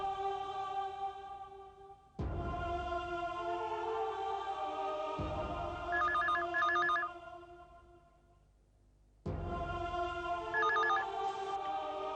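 Telephone ringback tone in a TV drama scene, heard after a number is dialed: repeated ring bursts separated by short pauses, fairly loud and alone with no voices.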